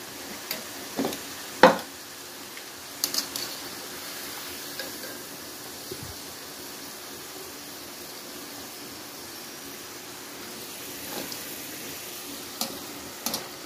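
Food frying in ghee, a faint, steady sizzle heard at low level for over thirteen seconds, broken by a few sharp clinks and scrapes of utensils against the pan.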